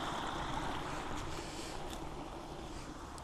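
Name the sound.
stream flowing in the countryside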